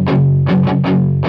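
Distorted electric guitar palm-muted with the right hand only, from a guitar lesson, plays a loud chugging gallop of about five thick muted hits that ring and sustain between strikes.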